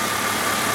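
A 2014 Honda Accord engine idling steadily up close, a continuous even hum with broadband hiss and no talk.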